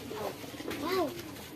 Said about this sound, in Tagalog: ibong maya yun eh